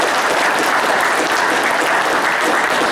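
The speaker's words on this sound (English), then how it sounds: "So, a round of applause for that" A radio day audience breaks into a full, dense round of applause, a steady wash of many hands clapping at close range with no break for the whole stretch.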